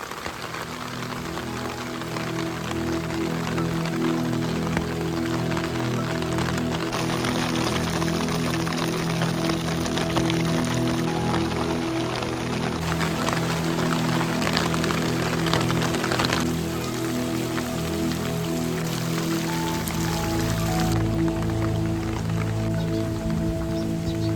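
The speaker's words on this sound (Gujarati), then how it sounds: "આજનો વરસાદ જો કાલ રાત્રિનો ચાલુ છે" Steady, heavy unseasonal rain pours down continuously on farmland with a ready crop, a dense hiss of drops striking surfaces with no voices, holding at an even level throughout.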